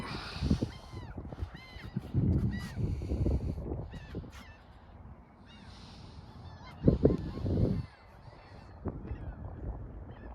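A goose living on a neighboring sailboat honks repeatedly in uneven bursts of harsh, nasal calls. Other birds and ducks aboard may join in, and the calls come from a moderate distance with no one speaking.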